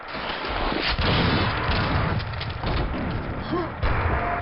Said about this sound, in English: I fire a grenade down there to try and clear out some enemies.